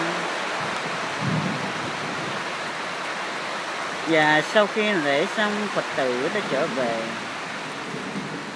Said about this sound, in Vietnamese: Trời lại đổ mưa, sấm chớp ở trên trời, mưa rơi nặng hột